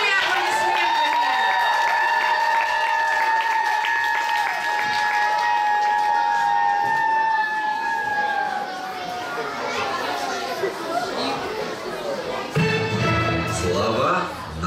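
An audience of children and adults claps and cheers to welcome a children's camp troupe about to stage the play Kolobok, with shouts and voices mixed into sustained applause throughout.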